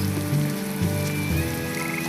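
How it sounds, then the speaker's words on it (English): Frogs croak in the video game Tales of Berseria, a run of low, repeated croaks over a soft, steady ambient background, with no talking. "I hear frogs"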